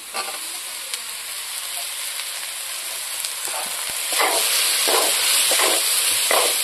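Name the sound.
frying food sizzling in a pan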